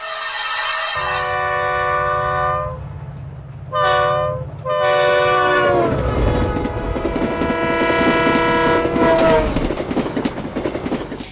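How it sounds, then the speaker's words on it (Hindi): A train horn sounds at Ankleshwar railway station in India, loud harmonic blasts repeating over a low rumbling engine, with a brief gap before a long sustained horn call that carries to the end. "इस वक्त हम मौजूद हैं अंकलेश्वर के रेलवे स्टेशन पर।"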